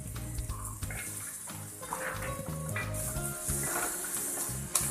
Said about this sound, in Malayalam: ഇനി ഇതിലേക്ക് അരിഞ്ഞു വെച്ചിരിക്കുന്ന സവാള ഇട്ട് കൊടുക്കാം.